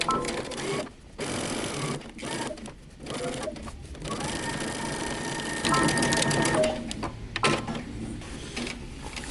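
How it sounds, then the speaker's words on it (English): A sewing machine stitches a dress bodice to its skirt along the waist seam, a close rapid mechanical whir running in several bursts separated by brief pauses. "I'm going to start stitching using 5/8 of an inch seam allowance across the entire waist,"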